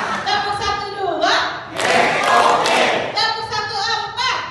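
Workshop participants clapping hands together in a counted clap pattern, a loud collective burst of clapping in the middle framed by a leader's spoken cues on either side.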